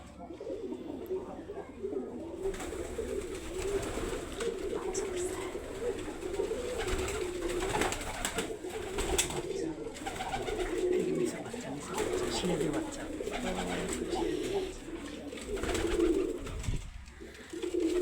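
Shirazi pigeons coo continuously nearby on a pigeon farm, low rolling calls overlapping each other, with a few faint chirps and soft rustling in the background.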